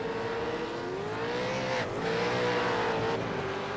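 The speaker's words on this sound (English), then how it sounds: "he got loads of wheel spin because his tyres were red hot" A race car in a racing sim at Donington, its engine droning high and steady with a dip and recovery as the wheels spin, loud and close with no talk.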